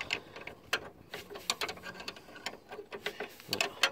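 A 17 mm wrench turns a nut while replacing car anti-roll bar drop links, giving quick, irregular metallic clicks and ticks, close and fairly quiet, with no speech.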